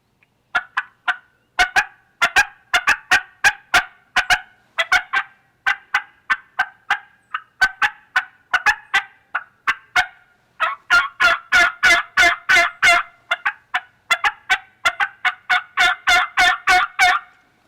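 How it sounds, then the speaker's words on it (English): A wild turkey hen cuts with rapid, irregular staccato clucks while a gobbler answers with gobbles. The calls come in loud, dense bursts that speed up into long runs in the second half, with quiet gaps between. "That hen does that cutting after she lays her egg, and that gobbler, she's letting that gobbler know where she's at."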